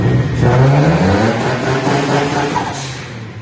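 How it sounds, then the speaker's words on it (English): A boosted Nissan 350Z street car, built to about 700 hp on pump gas, is dry-revved up close: one loud rev climbs and then slowly falls back toward idle. "good if I do like a dry rev or two in there?"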